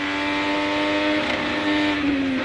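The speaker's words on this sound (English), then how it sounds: "He hit the limiter in top gear." An IndyCar engine at full throttle in top gear with push-to-pass on during the St. Petersburg race, holding a steady, high, buzzing note as it bounces against the rev limiter, heard continuously at moderate level.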